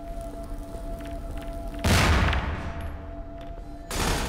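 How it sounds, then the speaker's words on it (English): Half-Life 2 combat, where a loud broadband blast erupts partway through like a grenade explosion, fades into a rumbling tail, then a second burst hits near the end over a steady background hum. "Grenades for everybody!"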